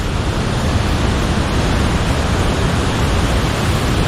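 River water rushes steadily in Kasol, a dense, unbroken roar that holds an even loudness throughout with no voices over it.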